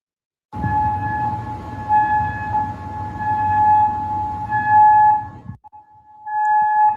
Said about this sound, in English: sirens continue to sound across the country